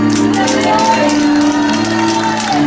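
A church congregation at a revival service shouts, whoops and cheers in praise, a loud continuous crowd roar mixed with voices.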